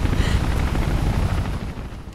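A helicopter in the video game Mirror's Edge gives off a loud, continuous rumbling roar with rapid rotor chop that holds steady and fades slightly at the end.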